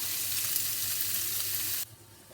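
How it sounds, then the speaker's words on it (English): Bacon, garlic and peppers fry in a large frying pan, giving a steady, close hiss and crackle of sizzling fat that cuts off abruptly near the end. "So my bacon and peppers are frying off"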